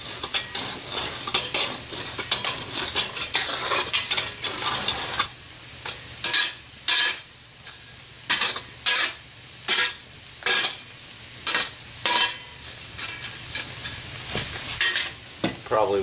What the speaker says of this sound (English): Break some of these coals out.